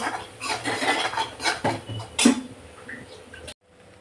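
Gram flour (besan) stir-roasted in a pan, with irregular scraping and clinking of a spoon against the metal, fairly close, before cutting to silence near the end.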